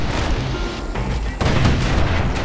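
Guns on a security skiff fire in the Bastion video game, loud booming bursts over a dense rumbling din, a sharper blast landing partway through.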